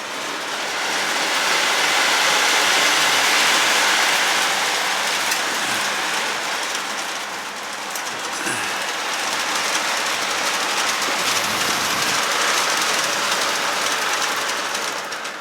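A G scale model train rumbles steadily along its track on a ceiling-mounted layout, a continuous hissing clatter that swells and eases slightly, with no voices.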